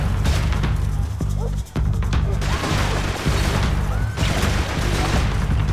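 Gunfire in the video game Max Payne 3: loud, dense bursts of shots crack out repeatedly over a steady low droning background, with a couple of brief pauses between volleys.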